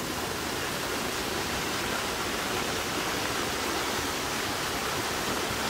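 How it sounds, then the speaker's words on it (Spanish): Floodwater from the mountain heights rushes down a dry creek swollen into a river headed for Chone, a steady, dense roar of flowing water without break and with no voices. "desde lo alto de la montaña viene todita el agua."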